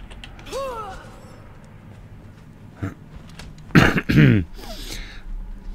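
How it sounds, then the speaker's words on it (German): A person clears their throat loudly in a couple of harsh, rasping bursts near the end, after a short creaky vocal sound earlier. "da muss ich mich da immer räuspern"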